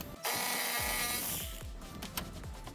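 Mechanical work on the radiator of a 2010 Mercedes ML350 4MATIC as 10mm bolts are removed, with a loud sustained whirring tool burst at the start followed by clicks and clatter close by.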